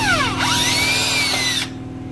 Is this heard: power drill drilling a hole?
yes